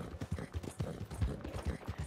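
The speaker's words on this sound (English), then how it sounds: "Let me try and control a fast horse going fast." Galloping horse hooves in the video game Red Dead Redemption 2, a fast rhythmic run of soft thuds repeating close and steady, fairly faint throughout.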